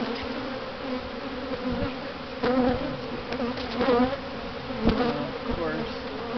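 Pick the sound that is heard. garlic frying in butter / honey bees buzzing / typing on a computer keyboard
honey bees buzzing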